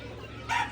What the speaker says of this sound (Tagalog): Klase-klase ni siya ng mga manok.